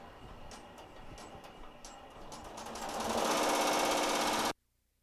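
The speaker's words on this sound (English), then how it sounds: "I will just go ahead and press start, and we'll let this guy sew out." Embroidery machine stitching a design on a bucket hat, rapid rhythmic clattering of the needle that grows louder and denser before stopping abruptly.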